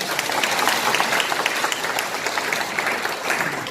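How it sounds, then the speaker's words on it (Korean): Audience applause at a Gumi economic revival debate forum, a dense, steady burst of many hands clapping filling the room from start to finish. "세 분에서 박수 한번 해주십시오."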